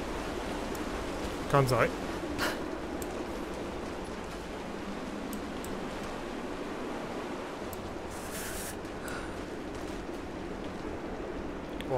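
Water in the Rise of the Tomb Raider video game rushes below as a steady, broad, distant wash, with a brief spoken remark and a few small game sounds over it.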